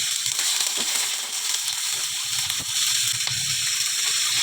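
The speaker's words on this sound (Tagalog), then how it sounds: "At pagkatapos ilagay na natin ang ating isdang tilapia." Tilapia fish fries in hot oil with browned garlic and onion, a continuous loud sizzle with scattered crackles and pops and no talking over it.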